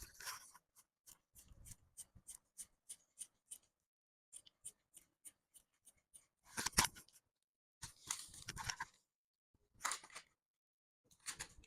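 Scissors snip through a paper circle pattern for a halter neck dress: a quick run of crisp, evenly spaced cuts, a brief pause, then several louder, longer cutting strokes, close and without talk.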